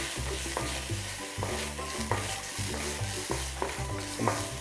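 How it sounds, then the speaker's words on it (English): Fenugreek seeds splatter and crackle in hot oil in a pan, a dense steady frying sizzle broken by repeated scraping stirs, close and fairly loud, with no voices. "once this methi starts splattering, just add this ginger garlic, crushed ginger garlic"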